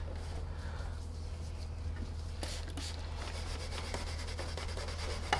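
Steady scrubbing and rubbing against the plastic body of a Sanitaire Force upright vacuum to take off paint scuffs, a continuous close friction sound over a low constant hum, with a few sharper scrapes partway through.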